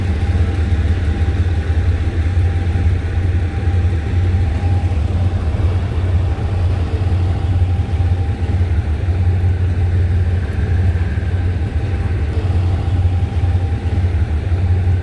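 An SRT passenger train idles at a Bangkok station platform on track 10, giving a steady, loud, low engine rumble with a faint constant hum that holds unchanged throughout.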